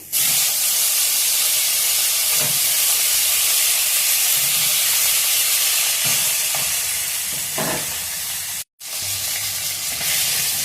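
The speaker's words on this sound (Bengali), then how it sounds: "দিয়ে পরের মাছগুলো ছেড়ে দিচ্ছি" Fresh pieces of rohu fish go into hot oil and hiss loudly. A continuous close sizzle and spatter runs throughout with a few louder pops, a brief dropout near the end, and no speech.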